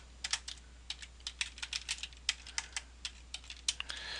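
Rapid typing on a computer keyboard, a steady run of crisp, close key clicks with irregular rhythm, alone with no voices.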